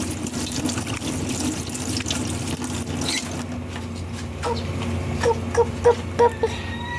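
A tap runs steadily into a sink during washing, then the flow changes and a few louder splashes and knocks follow near the end.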